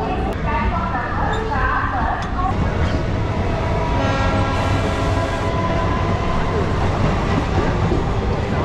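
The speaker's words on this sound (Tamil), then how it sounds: "இப்போ ட்ரெயின் கூடுவாஞ்சேரி ரயில்வே ஸ்டேஷனில் என்ட்ரி ஆகியாச்சு." Suburban MEMU train pulling into a railway station, with a continuous loud rumble and rattling of the carriages heard from on board, and voices talking over it throughout.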